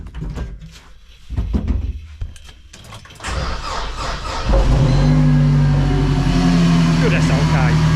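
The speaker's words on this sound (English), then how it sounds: "Hopefully the car will still start." A car engine cranks and catches, then settles into a steady, loud idle.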